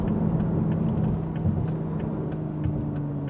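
A sports car engine hums and rumbles steadily while driving, a moderate continuous drone with road noise and no speech.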